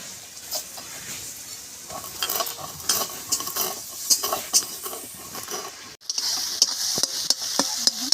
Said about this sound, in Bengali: টমেটোটা পুরো ভেজে গেছে, আর একটু হবে।